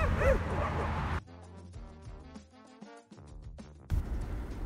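Stray dogs by a roadside in Turkey bark and yip repeatedly in quick bursts, some whimpering tones among them, fairly close, with a rougher noisy stretch at the start and end.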